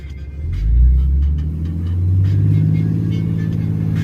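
A loaded farm truck pulls away in first gear. Its heavy, loud engine rumble swells as it accelerates, eases, then builds again, with a low throbbing drone throughout and no speech.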